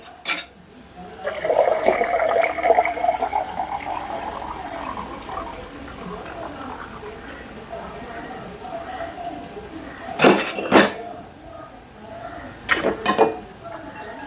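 Water is poured from a measuring vessel into a pot for a family beef biryani, a short gushing splash in the first seconds, followed by someone talking and some kitchen clatter.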